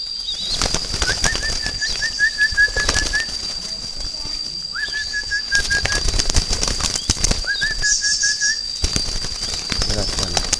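Spotted doves flapping their wings in bursts of loud fluttering and rustling, close by, broken by short whistle-like calls between the wingbeats.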